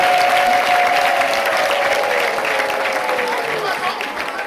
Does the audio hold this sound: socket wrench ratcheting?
no